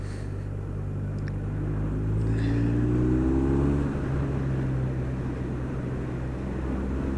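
A BMW R1250R boxer-engine motorcycle on the move gives a smooth, steady low drone with a brief rise in engine pitch, heard from the rider's position with wind noise and no talk.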